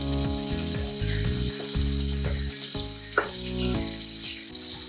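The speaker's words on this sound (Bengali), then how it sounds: "এই সময় গ্যাসের ফ্লেমটাকে একদম হাই করে ভালো করে মশলাটাকে কষিয়ে নিতে হবে।" Fish-cooking spice paste fries in a pan over a high flame, giving a loud, steady, close sizzle with occasional stirring scrapes and no talking.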